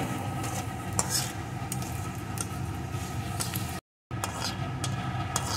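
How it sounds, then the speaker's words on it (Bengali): Bay leaf, dried red chilli and whole cumin seeds fry in hot oil for an egg and potato curry, giving a steady dense sizzle with scattered stirring scrapes and clinks, broken by a brief silent gap near the end. "এখন এই তেলের ভিতরে দিয়ে দেবো একটা তেজপাতা, শুকনো লঙ্কা, একটু গোটা জিরে।"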